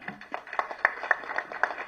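Applause from a live audience at a Tamil speaking event, a scattered patter of hand claps at moderate distance, fairly faint and uneven with a few sharper claps standing out.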